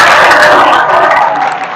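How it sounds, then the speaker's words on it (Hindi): Crowd at a youth group gathering applauding loudly for Modi, a dense, close roar of clapping that holds steady and then begins to thin and fade toward the end. "एक बार तालियां बजा दो मोदी जी के लिए"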